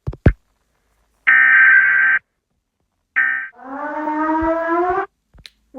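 An emergency alert system civil defense siren sounds in loud separate bursts: a steady tone, a brief pause, then a rising harmonic wail, with short clicks at the edges and no talk.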